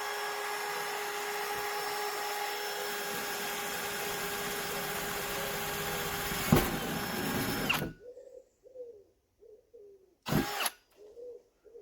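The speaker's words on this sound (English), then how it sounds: "this is very nerve-wracking, drilling into a van." A power drill bores into the metal body of a van while a caravan window is being fitted, giving a steady, close whine that runs for several seconds, then stops abruptly and is followed by a few short clunks.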